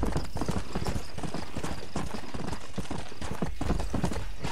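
Galloping horse hooves in the Red Dead Redemption video game pound in a fast, steady clip-clop rhythm, close and continuous throughout, with no talking.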